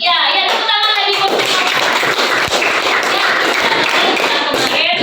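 Children in a classroom clap together in a dense, loud burst of applause that starts under a teacher's voice and keeps going steadily to the end.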